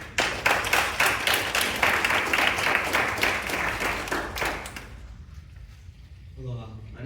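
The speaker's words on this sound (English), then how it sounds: "Let's give him a round of applause." Audience applause for a teen presenter at a youth symposium pitch competition, dense rapid clapping that holds for about five seconds and then stops abruptly, followed by a quiet room and a voice starting to speak.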